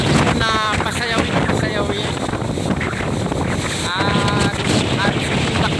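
A strong wind roars steadily and loudly across the microphone, gusting without pause, while a voice talks faintly underneath.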